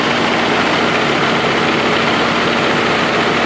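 An RB20DET engine idles with a two-cylinder misfire between cylinders four and five, giving a loud, continuous, close rumble with an uneven, lumpy pulse.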